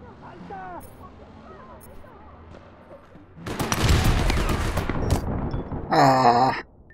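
Gunshots in the online game APB Reloaded: a dense burst of fire breaks in partway through after a quieter stretch, then one short loud shot follows, with a voice heard in the quieter parts.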